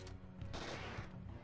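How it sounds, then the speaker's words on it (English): Gunfire in the video game Parasite Eve 2, a dense, steady stream of shots at a constant level with a couple of sharper peaks, sounding close and continuous for about a second and a half with no talk. "I will just stand here and shoot until this monster is dead."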